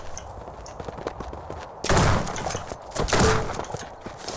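Shotgun blasts from the video game Shotgun Farmers, two loud booming shots about a second apart, the first following quieter background game sounds.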